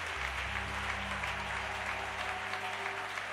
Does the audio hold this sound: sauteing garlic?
no